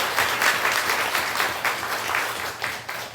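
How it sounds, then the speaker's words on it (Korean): A church congregation claps for an elder, the applause a dense, steady wash of hands in slightly pulsing waves, fairly close and with no talk over it. "우리 박수를 한번"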